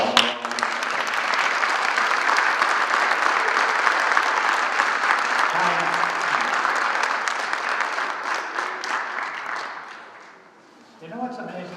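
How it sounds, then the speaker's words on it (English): Audience applause at an East Boston affordable housing celebration: sustained, loud clapping from a crowd that holds steady for about ten seconds, then fades out, with a voice beginning to speak as it dies down. "my own staff, Sal Colombo, Tanya, I also give them a round of applause."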